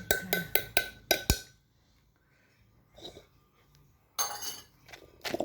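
A spoon mixes a Thai cha-om salad in a bowl, giving a quick run of crisp clinks and scrapes, then a quiet pause, a soft stir, and another burst of clattering close by.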